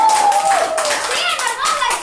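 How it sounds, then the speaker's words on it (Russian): A group claps together at a children's sports event, a dense burst of applause close by, with a voice speaking over it. "Все, аплодируем, поаплодируем,"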